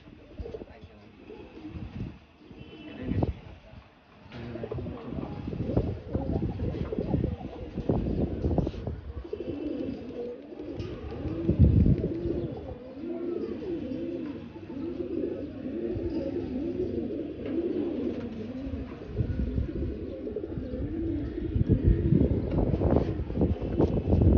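Racing pigeons coo steadily in a flying loft, a dense close chorus of low rolling coos running throughout, with a voice talking over them at times.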